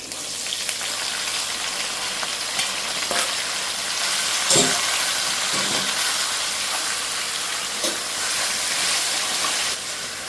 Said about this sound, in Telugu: ఇప్పుడు ఉడకబెట్టిన చిక్కుడుకాయలు వేసుకోవాలి.